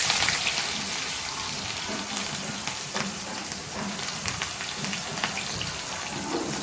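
Chopped onion and green chillies crackle and sizzle in hot oil in a kadai, a dense, even, close hiss with scattered pops that holds steady from start to finish.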